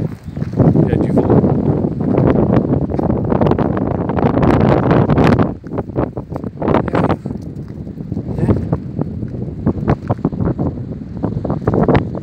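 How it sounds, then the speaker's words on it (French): Strong gusty wind buffets the microphone at a seaside camper van site in Martigues with the sea nearby, a loud rough roar that swells and eases, with a person talking at times. "Il y a du vent."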